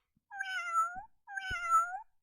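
Two electronic cat meows from a 2012 VTech Tierchen Lernhandy toy phone, each about three-quarters of a second long, separated by a short pause, clear and close with no talking.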